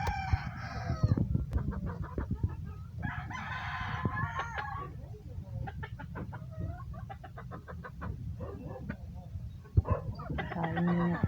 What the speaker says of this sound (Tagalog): Yan yung mga manok niya guys.